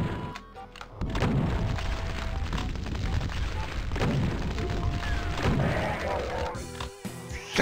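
Shotgun blasts and heavy impacts in the Doom Plutonia Experiment game, a dense barrage of loud booming crashes that runs almost continuously, with a brief quieter gap near the start.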